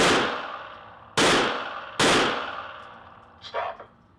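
Handgun shots fired one at a time during a Texas License to Carry shooting exercise, three loud sharp reports with ringing decay, followed by a faint clatter.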